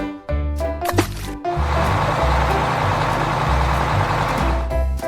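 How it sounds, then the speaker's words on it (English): A garbage truck rumbles steadily with engine noise and a hiss of hydraulics, mid-loud and continuous for several seconds, with a regular musical beat beneath and brief melodic notes around it. "Garbage truck."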